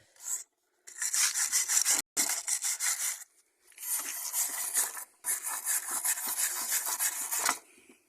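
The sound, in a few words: wire brushing rusty motorcycle metal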